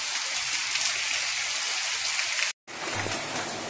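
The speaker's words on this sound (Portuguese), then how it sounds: "Olha, a chuva agora tá tão grande." Heavy rain pours down steadily in a dense, loud hiss, broken by a momentary gap before resuming.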